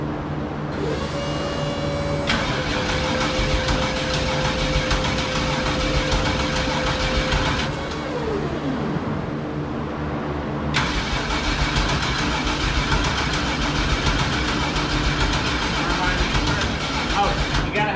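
A Yeti's engine cranks and catches, then settles into a steady mid-pitched idle, loud and continuous, with a brief rising whine partway through and voices talking over it.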